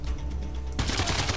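Gunfire rings out in the Sniper Elite 3 video game, a sudden loud crack of shots that bursts in partway through and keeps going as a dense, rattling volley over a low background rumble.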